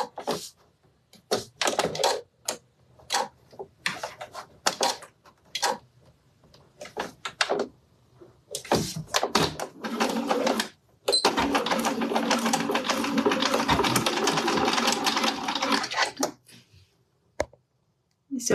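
A sewing machine stitching a fabric pouch in bursts, with short rattling runs and then one long continuous stitch, starting and stopping between pauses.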